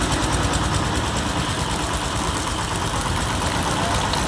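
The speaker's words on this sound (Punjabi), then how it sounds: "ਇੰਜਨ ਸਟਾਰਟ ਕਰ ਦਿੱਤਾ" An engine runs at a steady idle while a community kitchen site is readied for a religious free-meal service, giving a continuous, dense, even drone with no pauses or changes in pitch.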